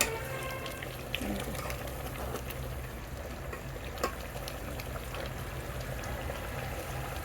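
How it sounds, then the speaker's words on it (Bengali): Beef curry simmering in a pot during a slow bhuna, its liquid reducing, gives a steady low bubbling and sizzling bed with a couple of faint clinks, no talk over it. "এভাবে মাংসের পানিটা কমতে শুরু করেছে, এটা মাংস থেকে পানি বেরোছে"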